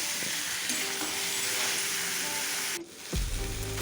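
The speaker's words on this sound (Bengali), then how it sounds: "মাংসটা ভেজে রেখেছিলাম এই ভাজা মাংসটা দিয়ে দেবো" Pre-fried meat sautéing in a pan gives a constant close sizzle, then the frying hiss drops out abruptly near the end and a low clatter of stirring follows.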